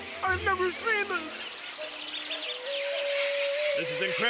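A dense cartoon flock of birds chirps and twitters steadily under animated dialogue and music. The chattering is moderately loud and continuous throughout.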